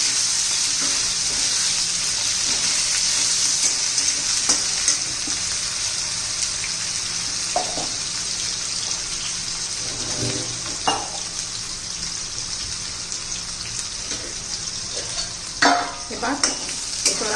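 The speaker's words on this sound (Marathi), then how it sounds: "चांगल्या तेलामध्ये परतून घ्यायचं आपल्याला" Raw banana pieces sauté in hot oil with a continuous bright sizzle, broken by occasional spatula scrapes and stirring knocks, a little stronger toward the end.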